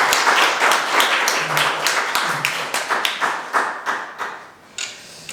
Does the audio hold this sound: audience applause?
yes